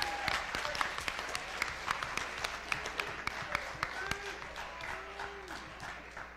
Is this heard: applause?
yes